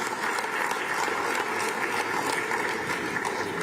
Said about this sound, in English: can you give Professor Barth Nnaji another round of applause?